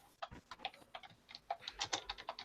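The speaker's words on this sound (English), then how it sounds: "I'm sorry, I was typing." Rapid irregular clicking of keys on a computer keyboard, close and fairly loud, in uneven bursts across the whole clip with no voices.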